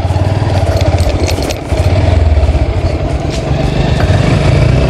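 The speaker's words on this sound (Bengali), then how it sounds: "এই যে একজন মোটরসাইকেল নিয়ে যাইতেছে" A motorcycle passes along a village road, its engine a close, loud, pulsing putter that dips briefly partway through and then rises again, with no talk.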